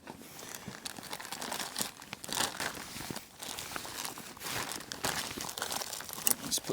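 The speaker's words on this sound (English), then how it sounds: "basically put a plastic bag over it is what I like to do" A plastic bag crinkles and rustles continuously over waterproofed rain gear, close and fairly loud, with irregular crunching bursts throughout and no talking.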